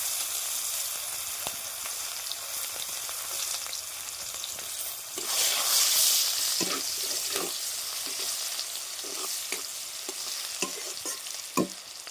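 Onion added to hot oil in a pan for a fish curry with mustard, sizzling steadily and close, with occasional stirring scrapes and a brief louder burst; no talk.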